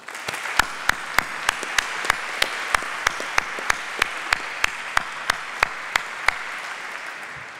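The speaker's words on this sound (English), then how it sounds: "they deserve a round of applause" Audience applause after a welcome address at an awards event, a steady wash of many hands clapping with sharp individual claps standing out at regular intervals, sustained and loud throughout with no voices.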